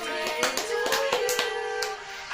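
Irregular hand claps ring out over a sustained melodic Happy Birthday tune.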